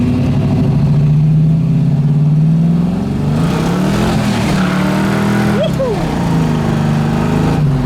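A 1973 Ford Mustang Mach 1 V8 rumbles loud and close, a deep throbbing idle that swells through revs and drops back, with a sharp blip near the end.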